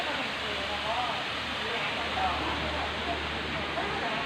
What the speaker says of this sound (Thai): ได้บรรยากาศของความเป็นน้ำตกเต็มๆเลยค่ะ